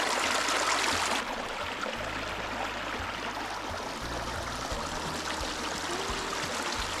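Clear water flowing in a stream in Northern Lapland, a steady, loud rushing and trickling close by, heard alone without any talk.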